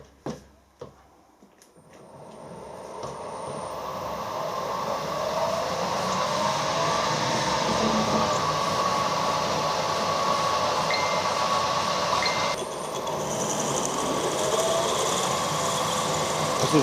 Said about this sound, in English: This is really nice steel to machine.